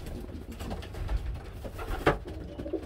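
Mini Red Shock pigeons coo close by in soft, low, repeated throaty calls in a loft, with faint rustling and no speech.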